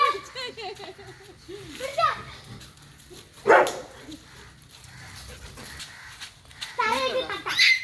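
A dog gives short barks and whimpers up close while people talk around it.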